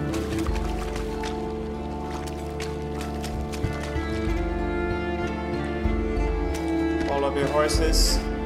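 Horses gallop in a video game, a steady run of rhythmic hoofbeats layered over continuous game music and ambience.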